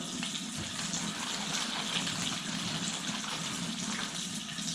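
Water runs steadily from a kitchen tap during steak dinner preparation, a constant loud hiss with no pauses throughout.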